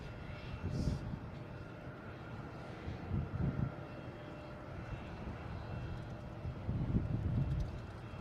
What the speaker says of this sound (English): next coming in is Delta from Fort Lauderdale